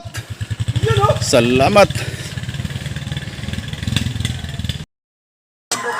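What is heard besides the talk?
motorcycle engine on rough farm road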